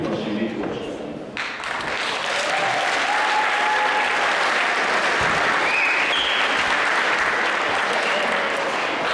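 An audience at a school recruitment event applauds to welcome a dormitory band, loud sustained clapping filling the room after a brief announcement by a voice at the start.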